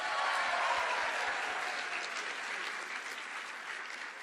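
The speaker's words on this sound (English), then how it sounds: "Let's give an applause for being warm this morning." A crowded room at the 2024 National Pro-Life Summit in Washington, D.C. breaks into applause, a dense and steady clapping that fades slightly toward the end.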